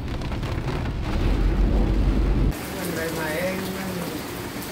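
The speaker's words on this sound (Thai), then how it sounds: "โอ้โหอย่างแรงเลยฝนตกลมพัดด้วย" Heavy rain driven by wind at a house, a loud dense roar of downpour that shifts midway into a lighter hiss with spatter close by.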